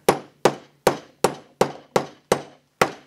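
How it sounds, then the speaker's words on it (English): A hammer strikes wood eight times in steady succession, each sharp close knock decaying quickly, with no talk over the blows. "let me get the daddy hammer"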